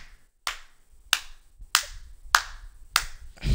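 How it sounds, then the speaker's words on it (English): A single person claps slowly, five distinct sharp claps spaced roughly half a second apart, close and alone, during a Rainbow Six Siege session on Xbox One. "You're clapping for yourself, or?"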